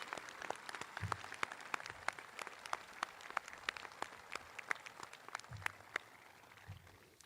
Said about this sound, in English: Let's have another round of applause for our distinguished alumni